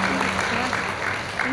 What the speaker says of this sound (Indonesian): Sekali lagi tepuk tangan nih buat dari Kominfo.